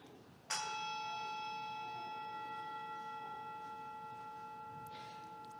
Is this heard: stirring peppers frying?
no